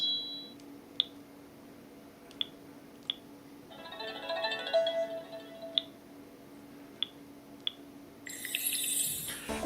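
Sony Ericsson W900 phone keypad opening sounds: a series of short, crisp clicks and ticks spaced a second or more apart, with a brief shimmering chime in the middle and a bright swish at the end.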